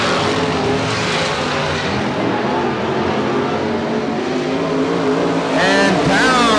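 Small dwarf race cars roar together around a Bakersfield oval track, a dense, steady wall of engine noise with revving harmonics that climb near the end, a race announcer's voice faintly mixed in.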